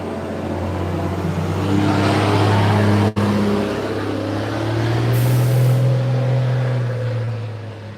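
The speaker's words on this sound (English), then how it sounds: "That was a dump truck trying to get up and down these hills" A powerful dump truck laboring up hills: a loud, close, sustained engine drone whose pitch rises and falls as it pulls under full load, with one sharp brief dropout midway.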